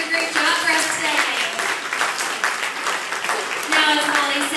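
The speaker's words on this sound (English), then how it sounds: "have another round of applause for Holly, Brittany, and Duke" Crowd at a Panama City aquarium show clapping for the trainers and performers, a moderately close wash of applause with cheering voices and whoops rising over it.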